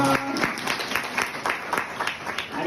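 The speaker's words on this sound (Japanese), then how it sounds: "かなみちゃんに皆様から大きな拍手お願いします" Audience at an aquarium seal show claps for a girl's tenth birthday surprise, a short burst of scattered hand claps with faint crowd murmur and music in the background.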